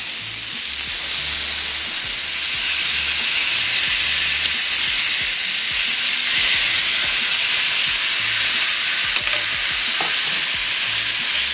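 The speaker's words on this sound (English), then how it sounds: "I am ready to put the pot roast in" Leftover pot roast hits a hot stir fry pan and sizzles loudly and steadily, a dense frying hiss that stays close and continuous from start to finish with some stirring mixed in.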